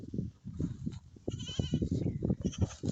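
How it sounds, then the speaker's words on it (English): Nigerian dwarf miniature goats bleating in a farm setting, a steady run of short, low-pitched, fairly faint calls overlapping one another with little pause. "Nigerian dwarfs. They're miniature goats."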